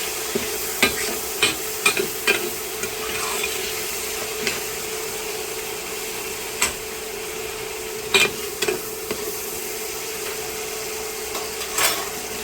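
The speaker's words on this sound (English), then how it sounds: "So I'm going to go ahead and saute these onions for about 1 minute." Diced onions and minced garlic sauté in a pan on the stove. A low, steady sizzle runs under intermittent scraping and clinking as they are stirred, close and moderately quiet.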